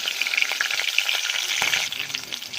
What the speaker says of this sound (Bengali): তেল গরম হয়ে গিয়েছে, এবার আমি 4 পিস কাঁচা লঙ্কা চিড়ে দিয়ে দিচ্ছি